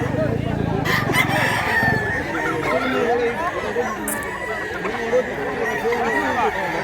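Dense, busy crowd of poultry at a market in Cebu, with roosters crowing and hens clucking throughout, layered under steady chatter from many people nearby.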